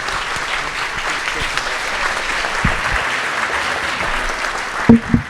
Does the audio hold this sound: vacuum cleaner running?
no